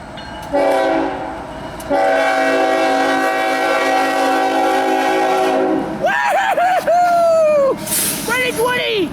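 A CSX eastbound loaded coal train with front and rear helper locomotives passes close by: a loud, sustained horn blast over a heavy rumble of rolling wagons, followed by high squealing wheel and brake screeches.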